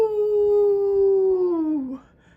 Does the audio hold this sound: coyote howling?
yes